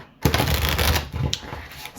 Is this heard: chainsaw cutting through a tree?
no